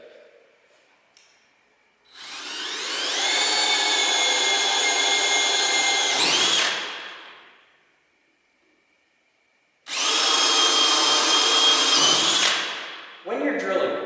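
A DeWalt power drill bores into metal parts for a six-inch coil overhaul, whining loudly in two long runs, each spinning up, holding steady, then winding down, with quiet gaps between.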